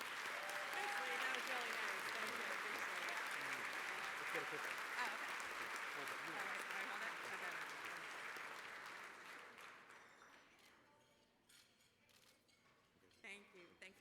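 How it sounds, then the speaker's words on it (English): Audience applause fills a luncheon hall at a law alumni association recognition event, sustained and fairly loud for about nine seconds before tapering off, with a few scattered claps and light tableware clinks at the end. "Ladies and gentlemen, please a round of applause for Professor Pam Diker-Middow"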